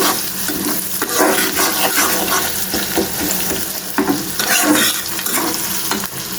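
An egg sizzles and fries loudly in a hot pan while Maggi noodles cook, a dense continuous crackle with scraping stir sounds throughout and no talking.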